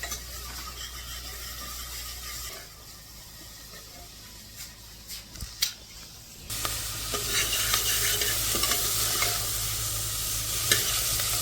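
Onions and garlic fry in hot oil in a pressure cooker for a mixed dal, giving a steady close sizzle broken by stirring scrapes, then a louder, brighter hiss in the second half.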